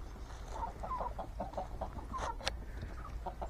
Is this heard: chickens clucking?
yes